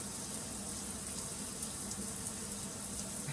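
Tap water runs steadily into a sink while kidney beans are washed, a constant rushing hiss that stays even and close throughout, with no other sounds over it.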